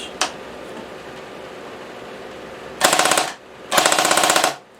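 An airsoft machine gun fitted with an M249 gearbox fires two loud full-auto bursts, each under a second long, a rapid mechanical chatter standing out against a steady low background hum after a quiet lead-in.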